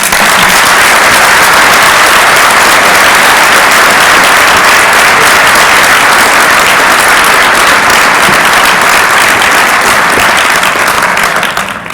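An audience at a formal event applauds to welcome FCC Chairman Michael Powell, sustained loud clapping from a large crowd that holds steady for the full stretch and fades slightly at the end.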